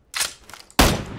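Gunfire in PUBG: a quick close burst of shots, a short pause, then a louder sharp report with a ringing tail, with no speech.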